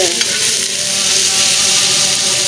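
Breakfast food fries loudly on a hot tawa griddle, a steady close sizzle that runs unbroken throughout.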